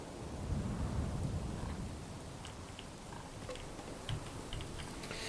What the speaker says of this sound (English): Nice thunderstorm.